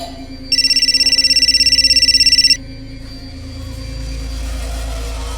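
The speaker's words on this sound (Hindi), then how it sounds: "पापा आपका फोन बज रहा है" A phone rings with a rapid electronic warbling trill lasting about two seconds, then stops, leaving a low steady hum.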